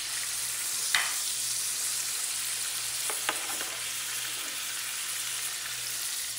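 Liver sautés in a pan with a soft, continuous sizzle and a few faint clicks of stirring, close but quiet, with no voices.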